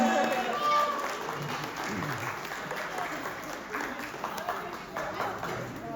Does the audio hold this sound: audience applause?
yes